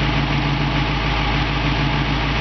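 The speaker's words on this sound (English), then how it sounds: "You can hear the engine just runs perfect." A 1966 Ford Mustang convertible engine idles steadily up close, a loud, even low rumble with a smooth throbbing pulse and no other sounds.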